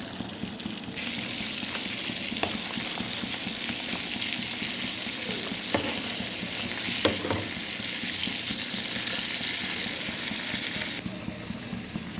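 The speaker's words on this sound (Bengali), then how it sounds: "আরও কিছু মাছ আছে, ওগুলোও ভেজে নেব।" Fish frying in oil in a pan makes a continuous close sizzle and crackle, with occasional clicks and taps from turning the pieces.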